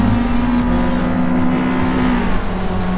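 Toyota AE86 engine in Forza Motorsport roars loudly and steadily, a sustained high-revving tone that holds for a few seconds before pitching slightly down near the end, with no talk.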